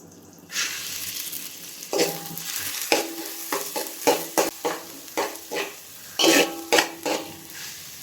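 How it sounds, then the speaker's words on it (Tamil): Ginger garlic paste frying in a pan for Dindigul Thalappakatti biryani, with a steady sizzle broken by repeated scraping and clinking as a utensil stirs it against the metal. "இஞ்சி பூண்டோட அந்த பச்சை வாசனை போகிற வரைக்கும் வதக்கிட்டே இருக்க வேண்டியதான்"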